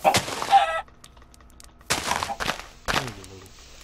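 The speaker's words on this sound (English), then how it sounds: "There are some chickens." Chickens cluck in the video game Minecraft: three short bursts of clucking separated by near-silence, the last ending in a drawn-out squawk, close and clear with no talking.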